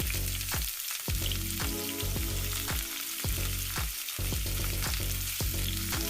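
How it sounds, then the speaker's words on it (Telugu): Chicken pieces sizzle loudly in hot oil in a pot, a dense continuous crackle with periodic stirring scrapes roughly every second, close and alone. "ఇప్పుడు ఒక గిన్నెలో ఆయిల్ వేసుకొని చికెన్ పీసెస్ని వేసుకోవాలి"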